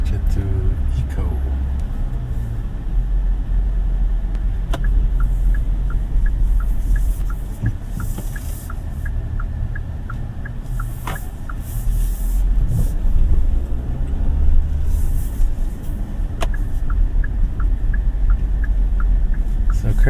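A 2024 Kia Seltos SX with a 1.4 engine hums low and steady inside the cabin while driving in eco mode, with road rumble and faint ticking underneath.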